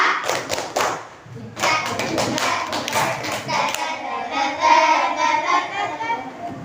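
Fifth-grade students doing a rhythmic class clapping routine, crisp patterned claps and thumps in short bursts, followed by children chanting and speaking together over continued clapping in a classroom.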